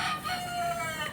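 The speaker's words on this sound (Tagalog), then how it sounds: "O, yung mga manok doon," A rooster crows at a farm among newly planted seedlings, one drawn-out call rising over rural background noise, fairly faint and heard alone without talk.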